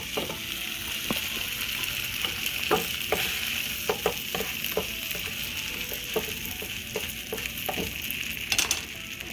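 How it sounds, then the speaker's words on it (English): A buttered tortilla set butter side down in a hot pan, frying with a continuous close sizzle and scattered light crackles, no voices. "when the pan is hot, you're going to put it buttered side down"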